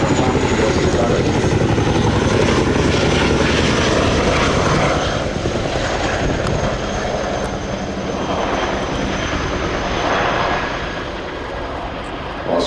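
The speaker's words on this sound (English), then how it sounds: "it's an opportunity to hear the iconic blade slap as it comes past" Chinook twin-rotor helicopter passing at an air show, its rotors beating out a loud, continuous rhythmic blade slap that stays strong throughout and eases slightly as it moves away, with no talk over it.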